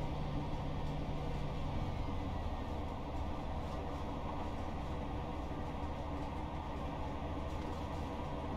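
A modern passenger train running steadily in Train Sim World, with continuous rumbling rail noise and a faint rhythmic clatter held at an even level throughout, no voices present.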